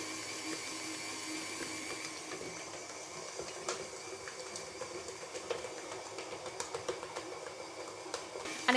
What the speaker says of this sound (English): we're going to beat that now for another good 5 minutes until all of that butter is thoroughly mixed through that dough